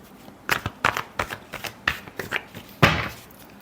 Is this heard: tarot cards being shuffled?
yes